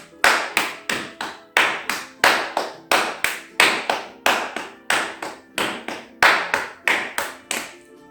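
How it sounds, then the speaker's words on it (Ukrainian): Rapid rhythmic slapping of hands against the legs, brisk pats in quick steady bursts, close and fairly loud with no talking. "далі ми постукаємо по ножкам"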